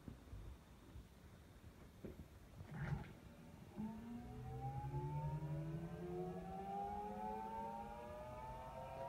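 An Astra electric power steering pump spinning up: after a few clicks and a brief burst, a whine rises and climbs steadily in pitch for several seconds, holding loud and close over a low rumbling background.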